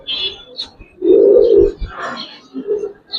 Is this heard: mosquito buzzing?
no